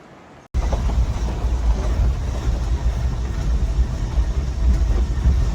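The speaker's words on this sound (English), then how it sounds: "Can't hear anything but an electric engine" A boat with a swapped-in electric engine runs on the water, giving a steady loud rushing drone of motor and water that begins abruptly after a brief quieter moment and holds constant, with no talking.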